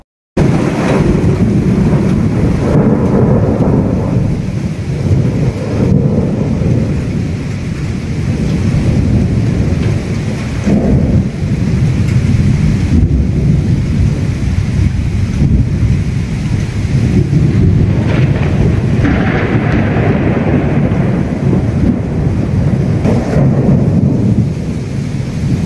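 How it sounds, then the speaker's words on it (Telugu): A night thunderstorm over Visakhapatnam brings loud, dense rain roaring without pause, with deep rolls of thunder rumbling through it and no voices. "గ్రేటర్ విశాఖను అర్ధరాత్రి వేళ గడగడలాడించిన బికార ఉరుములు మెరుపులతో కూడిన వర్షం"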